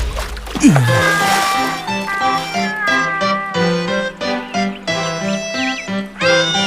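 A cat meows repeatedly in an animated Mahabharat cartoon scene, its cries rising and falling over a busy musical score that plays throughout.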